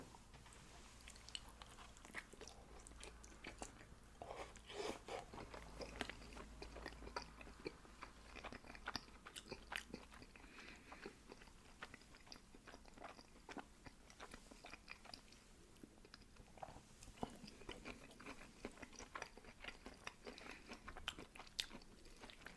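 Quiet, close chewing and biting of noodles from a noodle box with broccoli, soft wet crunches and mouth sounds continuing steadily throughout, very faint and intimate.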